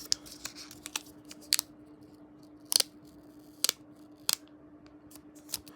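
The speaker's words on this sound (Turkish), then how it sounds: "Şimdi şu etiketi açıyorum." A label seal is peeled off an Apple AirPods Pro 2 box in a series of quiet, crisp ticks and snaps. They come at irregular intervals with pauses between them, in a quiet room.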